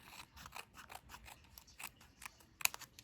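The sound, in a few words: small scissors trimming excess material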